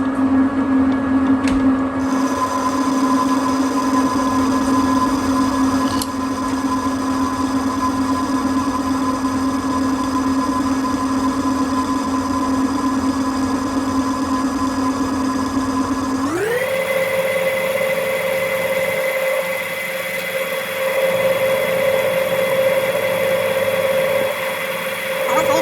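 A Harrison lathe turns at about 500 RPM for a light skim cut, its motor humming loud and steady before the pitch steps up sharply partway through and holds there.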